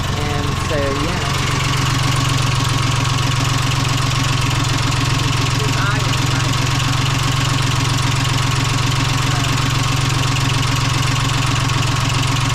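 An engine catches and settles into a loud, steady, close rumbling run with a rhythmic knock after picking up fuel, a brief sputter at the start and no clear talk over it.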